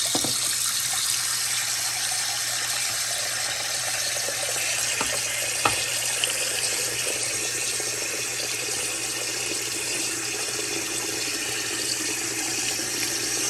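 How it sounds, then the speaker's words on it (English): Water pouring into a container for testing a Shellbox waterproof case for an iPhone 12 Pro, a steady close rushing hiss lasting throughout with a couple of faint clicks and no talking. "All right, let's just fill it up with water."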